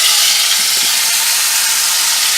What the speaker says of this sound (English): You want that sizzling.